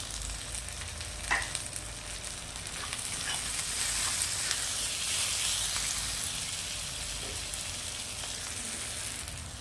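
Chopped tomatoes and green chillies fry in hot oil for a Bengali fish curry, a dense continuous sizzle and hiss that swells in the middle, with occasional stirring knocks and no voices.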